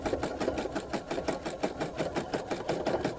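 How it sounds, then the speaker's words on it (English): A sewing machine runs steadily at high speed during free-motion quilting, its needle clattering in a fast, even rhythm, close and moderately loud, with no talking. "you can hear my sewing machine's really moving."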